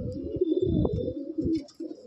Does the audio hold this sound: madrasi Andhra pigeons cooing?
yes